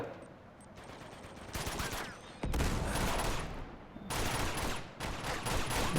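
Bursts of automatic gunfire in the action game Uncharted 2: Among Thieves, with rapid volleys starting and stopping in several loud clusters over six seconds, crackling and close.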